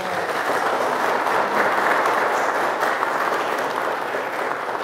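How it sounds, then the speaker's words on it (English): Wedding guests applaud the newly presented married couple, Mr. and Mrs. Henry, with loud, sustained clapping from a large crowd that stays even and full throughout. "Let us give them a round of applause."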